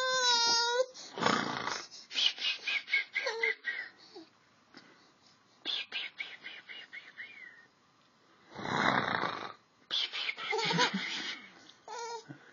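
A young child makes snoring-like rasping and babbling noises to imitate a mother's snoring, in short bursts with pauses, close and fairly quiet, while an adult talks in between.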